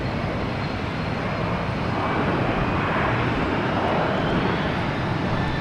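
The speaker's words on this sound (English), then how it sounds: "we got the Astrojet lining up and wait on 4 right" An American Airlines Astrojet jet airliner on the runway at Boston Logan gives off a loud, steady broadband engine roar that holds constant and close throughout, with no talking.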